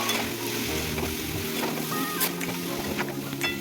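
Spice masala for khichdi sautéing in a pan with chillies, giving a steady, close sizzle and stirring scrape that runs continuously throughout.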